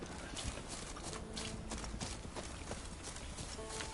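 Horse hooves clip-clop at a steady walking rhythm in The Witcher 3 video game, faint and even, set against a constant background wash of game ambience.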